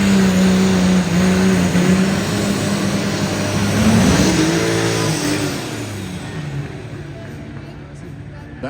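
A pulling tractor's engine roars and revs at a county fair truck and tractor pull, pitch climbing and wavering before gradually fading, with an announcer talking over it.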